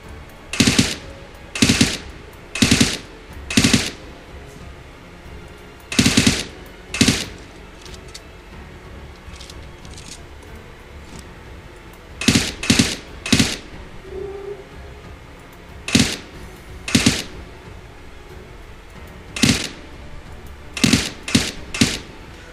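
Bursts of automatic gunfire in PUBG, a series of short sharp volleys scattered irregularly, several in quick doubles and triples, standing out clearly against a quiet background.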